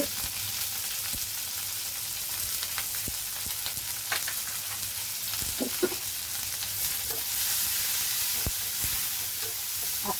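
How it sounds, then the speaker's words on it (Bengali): Onions fry in oil for a pabda fish curry, giving a steady close sizzle with scattered scraping and tapping from a spoon as they are stirred. No one speaks. "আমি এক কাপ পেঁয়াজ দিয়ে দেবো"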